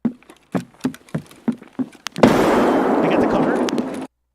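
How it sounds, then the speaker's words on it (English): A grenade goes off in the video game Escape from Tarkov: a string of short footstep-like taps, then a loud, close burst that rumbles and crackles for about two seconds before cutting off. "So that's one grenade, right?"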